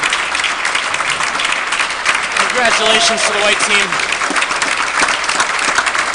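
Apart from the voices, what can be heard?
audience applause for tournament finalists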